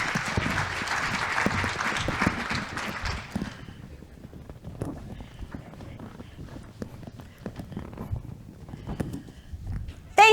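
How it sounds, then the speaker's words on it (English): A crowd applauds a volunteer named T coming up on stage at a motivational talk, a dense burst of clapping for about three seconds that then drops away to quiet room sounds and scattered taps. "let's give T a nice big round of applause"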